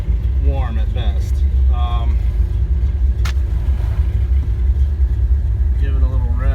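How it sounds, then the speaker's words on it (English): Chevelle engine idling in the cabin as it is given a brief rev, a loud low rumble that swells slightly, with a person talking over it. "Give it a little rev, get it to spin faster"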